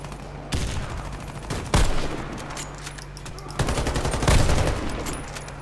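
Gunfire in the online shooter Warface: several loud bursts of rapid shots, close and sharp, separated by brief pauses.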